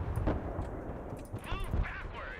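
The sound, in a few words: artillery fire in the video game Broken Arrow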